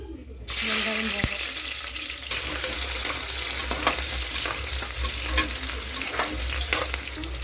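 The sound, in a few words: onion frying in hot oil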